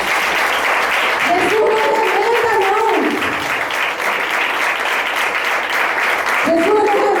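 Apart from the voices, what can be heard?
applause from a church congregation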